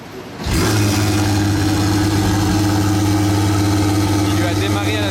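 A Porsche Turbo S Mansory engine catches and fires, then settles into a loud, steady, deep idle close by at the Top Marques Monaco car show.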